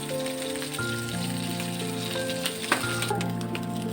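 Potato and chana dal tikki kebabs fry in hot oil with a dense, continuous close sizzle and crackle, a few sharper pops near the end.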